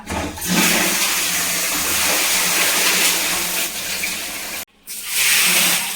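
Water gushes and pours steadily onto a bathroom floor to rinse it, loud and close, then cuts off briefly near the end before rushing again.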